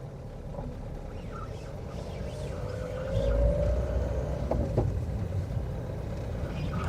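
A Renault Kangoo with a 1.5 turbo diesel engine on the move, heard from inside the cabin as a steady low rumbling drone with a slight swell partway through and road noise underneath.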